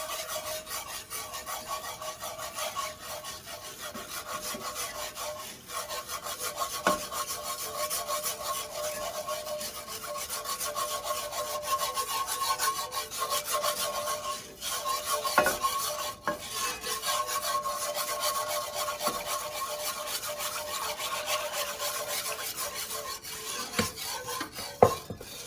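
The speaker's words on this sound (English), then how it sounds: "get it well combined so there's no lumps. That's why I love my roux whisk." A roux whisk works steadily through a roux in a pot for a Swedish meatball pasta casserole, giving a continuous close scraping and rasping with occasional sharper clinks against the pan and no talk.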